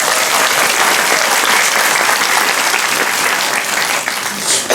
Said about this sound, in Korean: 박수를 좀 드릴까요?